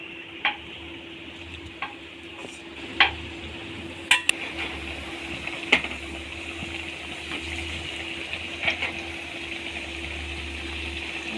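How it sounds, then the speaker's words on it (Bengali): A steady sizzle of Mughlai paratha frying in oil in a pan, with a constant hiss and low hum underneath and occasional sharp clicks and taps of a utensil against the pan. "এরকম করে প্রত্যেকটা মোগলাই ভেজে নেব।"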